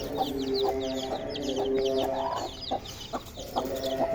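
A hen clucks in short repeated bursts near her chicks, which cheep in quick high chirps throughout. The birds sound close, and the hen is busy eating millet.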